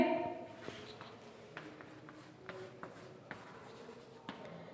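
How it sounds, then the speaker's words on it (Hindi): Pen or chalk writing during a primary-school maths lesson on halves and quarters, faint scratchy strokes with soft shuffling, quiet and close, no talk. "लिखते हैं"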